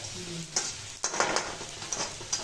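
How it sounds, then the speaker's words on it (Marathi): Onion frying in a large kadhai gives a steady, close sizzle, with several sharp scraping stirs of the spoon against the pan. "मोठ्या कढईमध्ये कांदा घातले आता"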